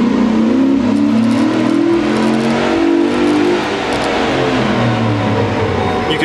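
A 2013 Ford Raptor's 6.2-liter V8 with a cold air intake revs hard on a dyno, a loud, continuous engine roar that climbs steadily in pitch and then settles into a sustained high drone.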